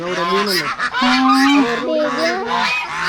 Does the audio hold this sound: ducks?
yes